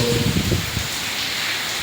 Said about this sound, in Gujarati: આજે બહુ જોરદાર વરસાદ ચાલુ છે